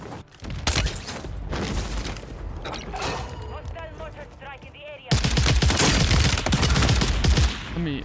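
SMG fire rattles in loud rapid bursts in Warzone 3 (Modern Warfare III), intermittent at first and then sustained and intense, with a voice talking over it.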